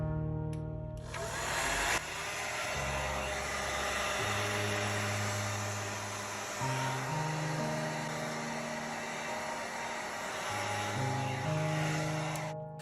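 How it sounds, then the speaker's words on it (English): Heat gun or hair dryer warming the back panel of a Google Pixel 4 XL phone, a continuous loud blowing whoosh with a low motor hum that wavers slightly in pitch throughout. "Use a heat gun or hairdryer to heat up the surface of the back panel."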